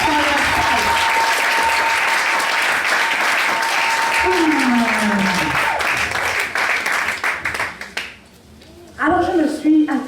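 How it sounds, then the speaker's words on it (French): A church congregation bursts into sustained, loud applause that fills most of the stretch, dense clapping with voices mixed in, then drops away briefly before picking up again near the end. "Clap for yourself."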